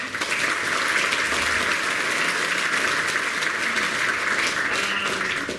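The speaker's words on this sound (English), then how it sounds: "big round of applause again" Steady, dense applause from a sizeable audience after a deep learning panel discussion, continuous and even throughout, with no voices standing out.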